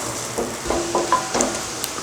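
Garlic sizzles in melted butter in a pan for veg noodles, a steady soft frying hiss with a few light stirring clicks and pops on top.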